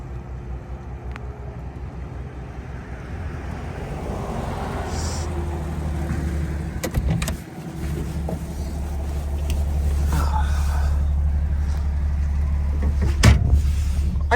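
A 1962 Chevrolet Bel Air sedan with an inline six and factory automatic driving down the road, its low engine rumble growing steadily louder alongside road noise, with a brief thump partway through.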